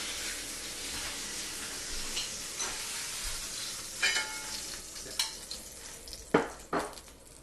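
Crushed garlic sizzles in a pan alongside chicken thighs, a steady close frying hiss broken by a few sharp stirring scrapes and louder spits toward the end, with no talking.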